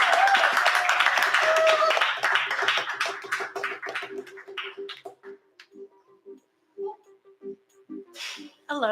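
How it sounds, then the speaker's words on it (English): An audience at an open mic poetry night claps loudly and steadily for a few seconds. The applause then thins to scattered claps and light taps as a voice begins to speak. "Clap till the poet gets to the stage"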